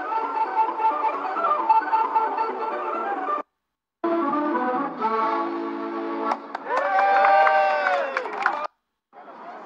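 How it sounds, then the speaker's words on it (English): A crowd gathered at the edge of a media area at an EU referendum results event, with a steady hubbub of many voices, a brief drop to silence and a burst of louder cheering-like noise near the end. "So a real crowd's gathered on the edge of this media area."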